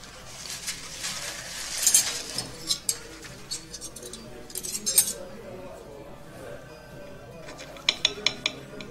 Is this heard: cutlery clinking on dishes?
yes